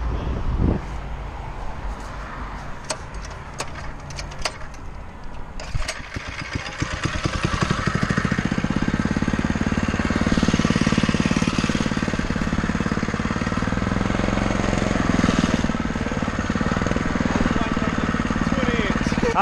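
A 212cc engine mounted on a motorized 20-inch bicycle with a wobbly motor, with a few sharp knocks at first, then a loud, steady, rough running drone that holds close by. Voices are heard alongside it.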